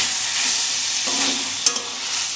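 Tomatoes cook with masala for tomato rice, giving a steady close sizzle as they fry. A spoon stirs through the pan with soft scrapes and one sharp clink near the end, and no one talks.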